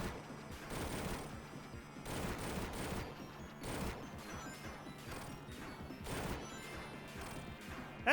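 Missiles exploding in the Sonic Origins video game, a run of sharp crashing blasts in irregular bursts with rattling debris between them, loud and close, with no talking.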